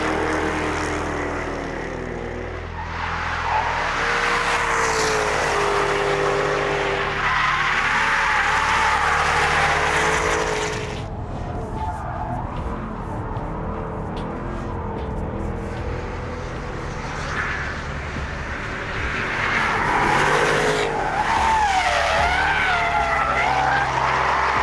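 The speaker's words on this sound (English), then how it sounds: "that is the new F-type coupe" A Jaguar F-type R coupe at the Circuit de Catalunya in Barcelona, engine roaring loud and close as it accelerates and shifts, with tyres squealing through skids and a brief quieter lull mid-run before the revs climb again.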